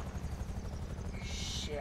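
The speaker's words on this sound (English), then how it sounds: "Another helicopter coming. Two more helicopters." Helicopter rotor thudding steadily throughout a GTA V casino heist shootout, loud and close with a constant low chop, mixed with game noise and a brief higher whine near the end.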